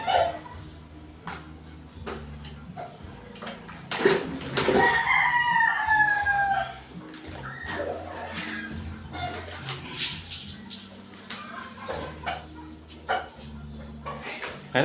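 Sweater Gilmore gamefowl roosters crow loudly in a backyard, several long drawn-out calls overlapping, with dogs barking and scattered clucks around them.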